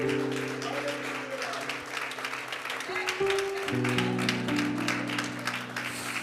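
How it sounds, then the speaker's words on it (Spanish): Congregation applause during a church service, with scattered clapping held under sustained music and fairly faint throughout. "Puede brindarle ese aplauso al Señor en esta."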